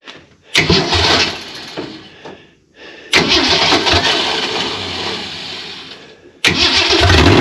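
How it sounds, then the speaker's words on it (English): A Ford Econoline travel wagon's engine, left sitting for over 15 years and fitted with a C4 transmission and little exhaust, cranks and catches in three loud bursts, each turning into a rough, noisy idle before cutting off. "Let's fire it up, see if that C4 still works."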